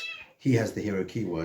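A house cat gives a short meow at the start, then someone talks over the rest of the moment in a quiet indoor room.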